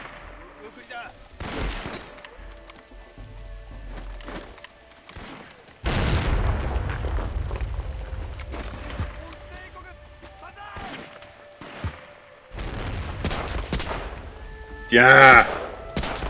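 Machine gun fire in a video game comes in bursts of rapid shots mixed with booms and shattering impacts, with loud stretches near the middle and end and a brief spoken word over the action.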